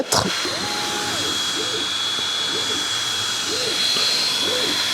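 A Creality Falcon 2 laser cuts through 8 mm hard wood at a slowed feed rate, giving a steady loud fan-like whir with a high whine and repeating soft motor sweeps as the head travels.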